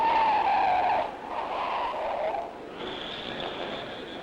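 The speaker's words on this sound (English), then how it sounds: "That's how far he skidded." A race car skids with a long tire screech at 1958 Indianapolis 500 practice. The screech fades into engine and crowd rumble, followed by a second shriller squeal.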